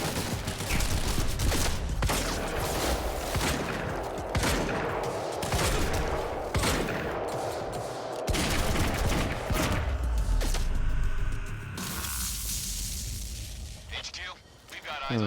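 Gunfire in the Quantum Break video game, bursts of rapid shots and blasts crackling over a busy game soundtrack, loud and dense, with voices talking over the action.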